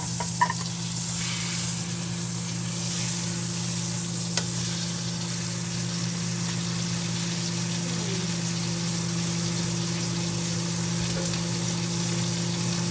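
Asparagus cooking in olive oil in a pan, a continuous even sizzle up close lasting throughout, with a faint steady hum underneath and no talking.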